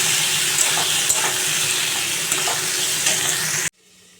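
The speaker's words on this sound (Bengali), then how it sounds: "এবার যে আলু আর পটল কেটে রেখেছি এইগুলো আমি দিয়ে দেবো, একসঙ্গেই দিয়ে দেবো। আজকে আর আলাদা করে ভাজবো না, আমি একসঙ্গেই কষাবো।" Cut potatoes and pointed gourd frying together in a pan, a steady close sizzle with occasional stirring knocks and scrapes, ending abruptly into near silence.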